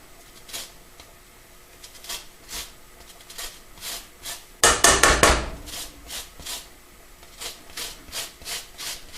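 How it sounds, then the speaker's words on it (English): Lemon zest is grated over a pot of Moroccan greens soup in steady, rhythmic scraping strokes, with one louder flurry of quick rasps midway, close and distinct with no talking. "I'm just going to grate some lemon zest on top"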